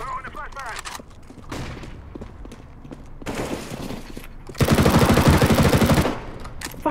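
Bursts of CZ75 pistol fire in CS:GO come in quick, rapid strings, with the loudest and densest volley near the end amid other game noise and voices.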